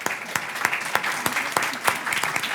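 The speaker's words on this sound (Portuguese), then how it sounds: "gostava de pedir uma salva de palmas em agradecimento" An audience at a national workplace mental health congress applauds the guests, a dense burst of overlapping hand claps that stays close and loud throughout.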